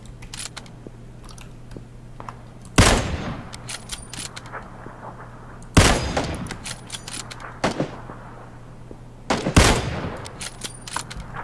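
Three sharp, loud gunshots ring out in a video game shootout, spaced a few seconds apart, each trailing into echo over faint background noise.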